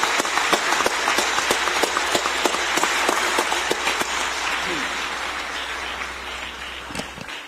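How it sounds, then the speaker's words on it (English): Audience applause at a United Nations Habitat Assembly session after a children's performance by Ghetto Classics, steady and dense, with some louder individual claps, slowly fading toward the end under faint voices. "Let's give them a round of applause again."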